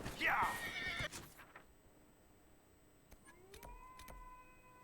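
A horse in the video game Dragon Age Inquisition gives a loud, close whinny in the first second, followed by quieter in-game clatter and faint mechanical tones with no talk.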